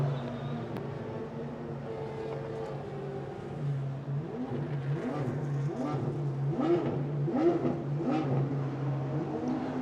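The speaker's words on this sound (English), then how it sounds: "'49 Porsche going behind the wall right now with the full skirts." A 1949 Porsche race car with full fender skirts at a vintage motorsports reunion, its engine droning and rising in pitch with repeated revving surges as it passes at moderate distance, steady and continuous without voices.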